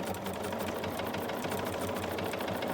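A sewing machine stitches a pillow, its needle running in a fast steady mechanical chatter, close and continuous throughout with no pause.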